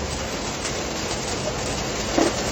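Heavy rain drumming steadily on the roof and body of a small three-wheeler, heard from inside the cab as a dense, even hiss with no voices.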